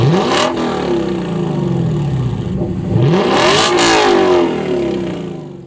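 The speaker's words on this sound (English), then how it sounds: "when you turn on the engine, you'll definitely hear it" A Lexus LC 500 engine revs hard twice through an aftermarket catback exhaust, the throaty pitch sweeping up and falling back each time, loud and close.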